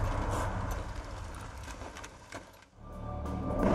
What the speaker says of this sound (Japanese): ISA のエンジン音だ。